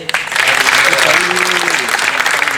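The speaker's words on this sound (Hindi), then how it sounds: "एक बार ताली बजा दीजिए।" An audience at a literary society's foundation day event breaks into loud, sustained clapping that fills the hall, with voices mixed in.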